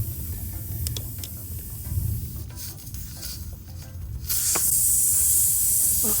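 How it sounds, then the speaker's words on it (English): A continuous broadband hiss of air escaping from a punctured tire over a low rumble, growing louder and brighter near the end, with a few faint clicks. "Air's already coming out."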